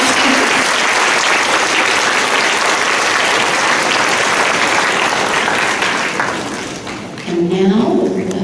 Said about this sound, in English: let's give them a round of applause for their students